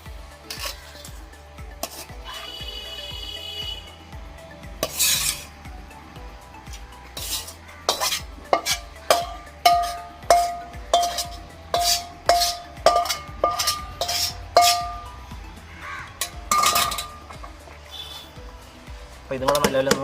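A spoon scrapes and knocks repeatedly against a metal pan as fried chicken is stirred into a pepper shawarma mixture, loud and close, with steady rhythmic strokes and faint sizzling underneath.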